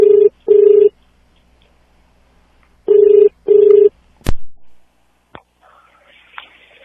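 A telephone rings in two paired bursts of a steady electronic tone separated by silence, followed by a click and brief handset noise as the call is picked up.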